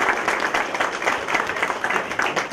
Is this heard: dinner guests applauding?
yes